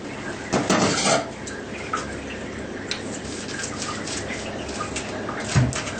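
Clinking and scraping of utensils against a mixing bowl while mixing flour, with a few louder knocks, over a steady background hiss of kitchen noise.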